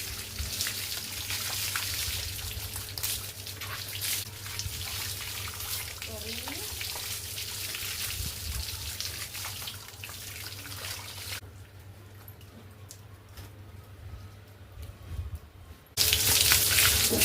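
Water poured and splashing steadily while a pregnant cow is bathed outdoors, a continuous close wash of running water that drops quieter partway and then surges loud again at the end, with someone speaking at times.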